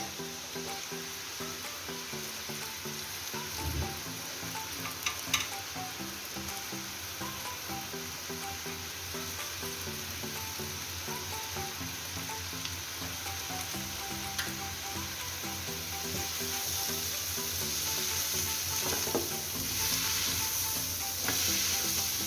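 Capsicum and finely cut green chilies sizzle in a hot pan, a steady, dense crackling hiss that holds close and even for the whole stretch, swelling slightly louder toward the end with a few faint clinks.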